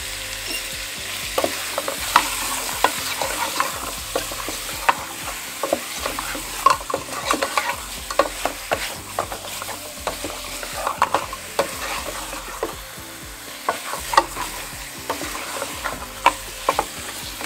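Beef pieces frying in a pan give a busy, crackling sizzle, with frequent sharp pops and spatters over a continuous hiss, heard close up with no talking.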